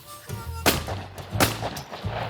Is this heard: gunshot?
yes